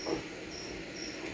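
Cricket chirping indoors, a faint high trill repeating in short regular bursts against a steady background hum, with no voices.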